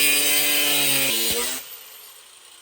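Cutting exhaust pipe for an O2 sensor bung on a turbocharged 2.5 five-cylinder VW Jetta, a loud close cutting tool grinding through metal for about a second and a half before spinning down, with no talking.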